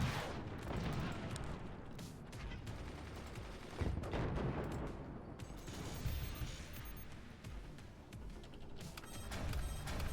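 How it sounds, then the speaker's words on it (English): Dense rolling gunfire and cannon blasts from the artillery battle game Forts, a continuous loud barrage of overlapping shots and booms with brief lulls. "I'm doing a really great job shooting myself right now."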